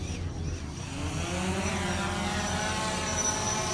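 A drone lifts off and flies in Pueblo, with a continuous whirring buzz of its rotors holding steady and fairly loud throughout, with no voices.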